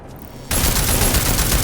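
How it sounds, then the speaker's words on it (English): Rapid automatic assault rifle fire in Deus Ex, a sudden burst of closely spaced loud shots starting abruptly after a moment of near silence and continuing steadily to the end. "now I'm just walking around with just an assault rifle shooting people in the face"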